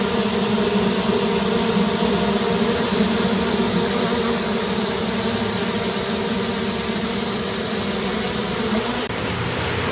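A dense, steady hum of many honeybees fanning at the entrance of a nucleus hive, a continuous close buzzing drone with layered tones that holds at even loudness throughout.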